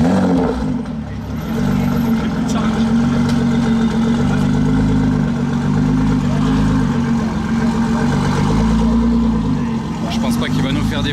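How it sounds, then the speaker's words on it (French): A Nissan GT-R fitted with an Akrapovič exhaust starts up and settles into a deep, steady idle on a street lined with supercars at a rally gathering, with people talking nearby. "Ah, ils vont démarrer la GTR Acra."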